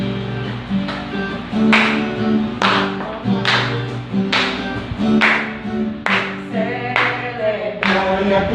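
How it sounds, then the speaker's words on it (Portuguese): A church congregation sings while clapping hands in a steady rhythm, with bright, regular claps about once a second over the singing voices. "Vamos lá, vai cantar batendo palmas também"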